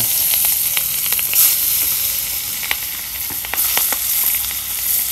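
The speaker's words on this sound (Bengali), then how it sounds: "বোয়াল মাছ তো সুন্দর করে ভাইজা নিও" Loud, close sizzling of boal (wallago catfish) frying in hot oil in a wok, continuous with scattered crackles and pops throughout.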